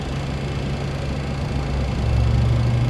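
A Boeing 707-320C jet engine spools up during start in MSFS 2024, a steady low rumbling drone that grows slightly louder and heavier toward the end, with no talking.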